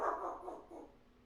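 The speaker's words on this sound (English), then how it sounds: "Him starting to bark as we're doing this last question" A pet dog barks and yowls indoors, one drawn-out howling bark that fades quickly, close and moderately loud.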